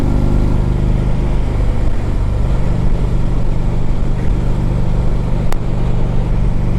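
A 2010 Harley-Davidson Ultra Limited with a 103 cubic inch engine rides along the road, its loud, steady low engine drone blending with rushing wind throughout, with a brief click near the end.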